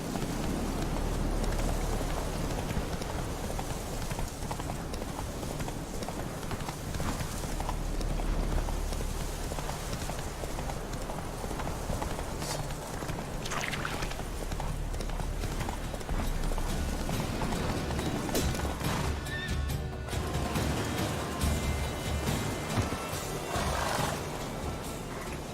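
Roach the horse galloping in The Witcher 3, hooves drumming steadily beneath a dense, loud wash of game music and ambience throughout.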